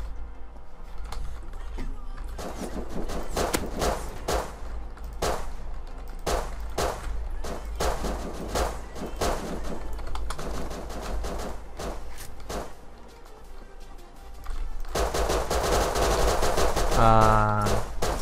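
Gunfire in the video game Rust, rapid bursts and single shots cracking in uneven clusters over a constant low hum, growing denser and louder toward the end.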